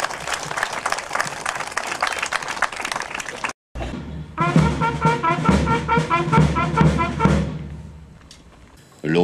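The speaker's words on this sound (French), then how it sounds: "Vous pouvez applaudir." Applause at a French commemoration ceremony for 8 May, a medal award: sustained clapping from a crowd, breaking off briefly and resuming over loud voices and music before fading out.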